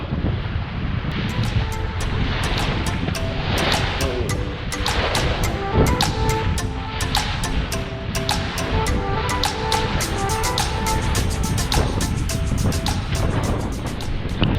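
A sailboat's engine runs while motor sailing across choppy sea in the Bristol Channel, a steady low drone beneath wind buffeting the microphone, splashing water and rhythmic clicks and rattles from the boat.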